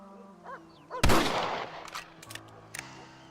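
A rifle fires in Red Dead Redemption, set in West Elizabeth and Marston Ranch: one sharp, loud report with a rumbling decay, then a fainter crack near the end. Faint background tones come before the shot.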